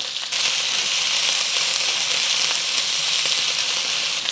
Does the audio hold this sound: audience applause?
no